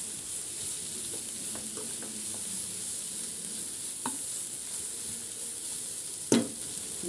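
Vegetables with garam masala sautéing in a pan for bread rolls, a steady faint sizzle with a few soft stirring scrapes and one sharper clink near the end.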